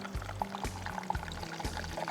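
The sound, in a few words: hot oil poured onto sambal ingredients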